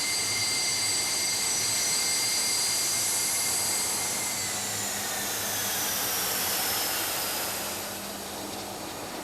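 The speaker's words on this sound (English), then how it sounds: "Prince Charles took the controls of the BAE 146 aircraft for the flight from Munich north to Hamburg." A BAE 146 jet airliner in flight, heard as a loud continuous engine roar with high whining turbine tones that slowly drift in pitch, steady and close before easing slightly toward the end.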